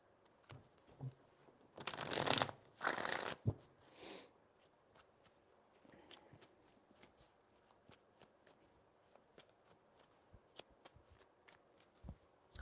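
A deck of tarot cards is riffled in two quick, crisp shuffles close to the mic. Softer handling rustles and taps of the cards follow at low level.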